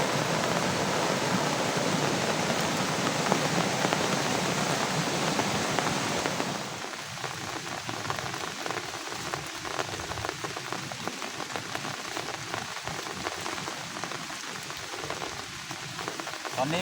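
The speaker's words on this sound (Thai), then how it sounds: "ฝนตกนี่บ่หยุดบ่เซาเลย" Heavy rain falls without a break over farm fields with hill rice and vegetable plots, a dense, loud, continuous hiss that eases slightly partway through but keeps pouring steadily.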